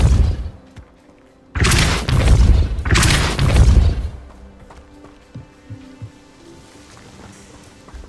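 Depulso force-push spell from Hogwarts Legacy gameplay, two loud whooshing blasts in quick succession followed by quieter scattered debris and ambient game sounds.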